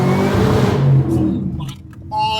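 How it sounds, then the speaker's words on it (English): Car doing a wheel spin, the engine revving hard as the tyres break loose, loud and close, with the roar falling away midway and a thin squeal and whir rising near the end. "Oh, wheel spin."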